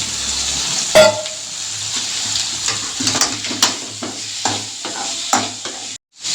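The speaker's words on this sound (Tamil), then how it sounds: "இப்போ முருங்கைக்காய் போட்டு பரட்டி விட்டுக்கலாம்." Drumstick pieces tossed into a pan of frying onions, tomato and ginger-garlic paste for a Tamil drumstick masala, with a soft sizzle under repeated close spoon scrapes and clacks as they are stirred.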